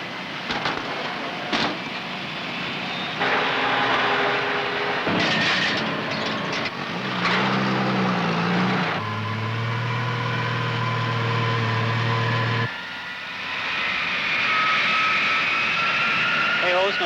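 Jet aircraft engines roaring at a 1950s–60s Los Angeles airport, a loud sustained rumble that shifts in pitch and swells again toward the end, with someone narrating over it.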